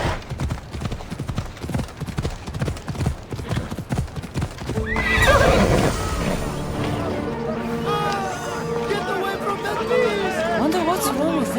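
In the video game Assassin's Creed Odyssey, horses clip-clop with rapid hooves, then neigh and whinny loudly several times amid chatter and crowd noise, with a voice speaking over part of it.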